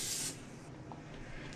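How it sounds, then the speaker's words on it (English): A can of cooking spray hisses onto a chaffle maker in one short, loud, close burst lasting a fraction of a second, followed by quiet room noise with light handling sounds. "what I'm gonna do now is spray the maker again"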